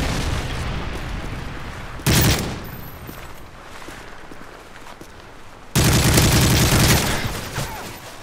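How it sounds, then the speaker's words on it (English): Predator missile strikes hit in an online match of Modern Warfare 3 with two loud, heavy explosive blasts, each rumbling for a second or more over a background of scattered gunfire. "Friendly predator missile inbound."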